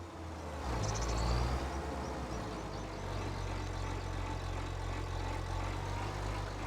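Tractor engine idling in the farming game Farming Simulator 25, a steady low rumble with a faint higher hum, quiet and continuous with no talk.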